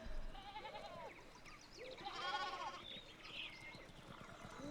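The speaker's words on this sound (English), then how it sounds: "One of the fence rails fell and the sheep started hopping it." Sheep in the video game Pentiment bleat several times in wavering, overlapping calls against a quiet farmyard background, moderately close, with no speech.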